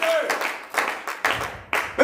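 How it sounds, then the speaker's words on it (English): A worship congregation at a Sunday church service claps its hands, with bursts of clapping rising and falling in quick waves and a voice talking over the top. "Somebody clap your hands for the word of God."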